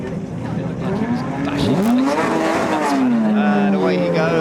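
A race car pulls away from the pit stop at the Royal Automobile Club Woodcote & Stirling Moss Trophies race, its engine climbing loudly through rising revs close by, with commentary voices heard over it.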